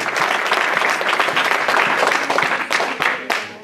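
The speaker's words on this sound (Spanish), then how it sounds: "denle un aplauso al Señor" A church congregation claps loudly and energetically, dense overlapping applause with a few sharp individual claps standing out near the end.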